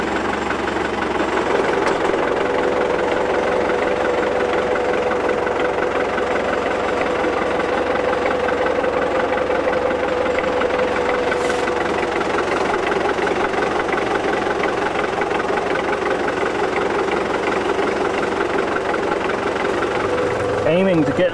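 The engine of a tractor pulling a lettuce planting machine on an organic farm drones at a constant, loud, low idle-like rumble throughout, with a voice present at times.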